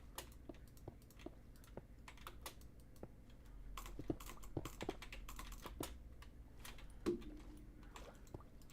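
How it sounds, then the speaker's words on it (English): Clicks made by hand rather than by an auto clicker come in irregular, uneven bursts, close and crisp, with no one talking over them. "This is all natural clicking right here."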